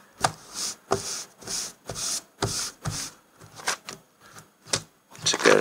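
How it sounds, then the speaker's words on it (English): Close, rhythmic scrubbing strokes as the back of a picture is rubbed flat onto a paper collage, about a dozen firm swishes with short pauses between them and no speech. "I'm going to place it on there, and again rub on the back."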